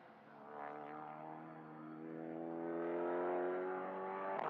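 A Ford 5-litre V8 prototype race car engine at Mugello during a four-hour endurance race, a sustained harmonic roar that swells and climbs in pitch as the car accelerates past, fairly distant and alone.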